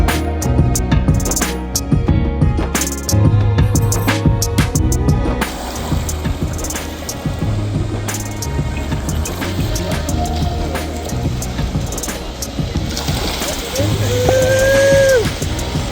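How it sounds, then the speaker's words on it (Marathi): Steady rush of sea water and cool wind at Keri Beach, Goa, with waves washing in and out and a few faint voices in the background. "उदकाचो आवाज आनी थंड वारो"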